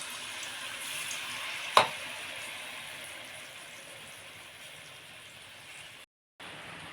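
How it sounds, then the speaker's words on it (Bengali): Palm-fruit malpua fries in hot oil with a soft, continuous sizzle, interrupted by one sharp clack early on and a brief silent gap near the end; no voices. "আর এই একই রকমভাবে সব মালপোয়াগুলো ভেজে নেব"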